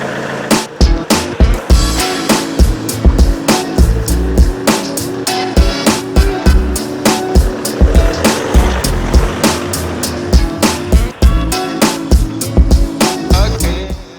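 A Ford Galaxy on a road test, heard from inside as a loud, uneven series of clunks, knocks and bumps over a low road rumble, with dense rapid impacts throughout.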